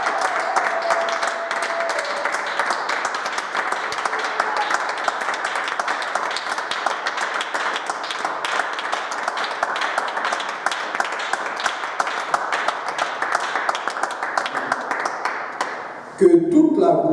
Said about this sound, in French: j'aimerais vraiment qu'on applaudisse d'abord le Seigneur Jésus-Christ